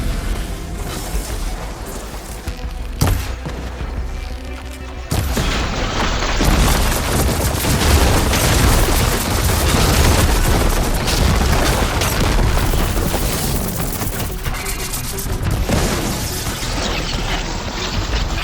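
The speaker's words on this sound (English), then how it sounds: "Hopefully the Tenakth will fire a few shots from that ballista." A ballista fires heavy shots during a battle in Horizon Forbidden West, with loud booming impacts and mechanical thuds over a dense, continuous roar of game combat noise.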